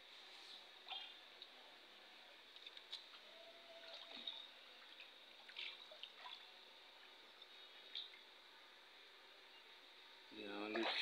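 Water trickles and drips faintly from a leaking fish pond outdoors, soft scattered drops under quiet ambience, with a louder burst of noise near the end.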